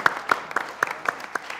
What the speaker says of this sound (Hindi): विनर के लिए तालियां बजा दो यार